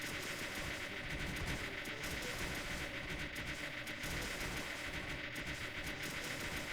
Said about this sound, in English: Never-ending staccato of the blasters.